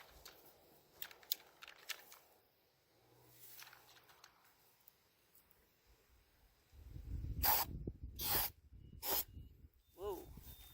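Textured spray paint hissing from an aerosol can onto a 3D printed bonsai pot in several short, close bursts near the end, after a quieter stretch with faint handling noises.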